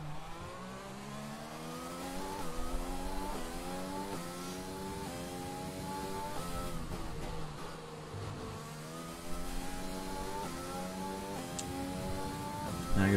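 F1 race cars in the F1 2020 game on the final lap, a high engine whine rising through gears in repeated upshift sweeps, steady and continuous with brief dips between climbs.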